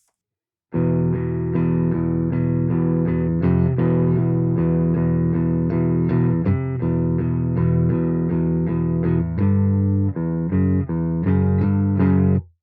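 A clean electric guitar slowly plays a verse riff, ringing sustained chords and single notes, alone, with a steady unhurried rhythm.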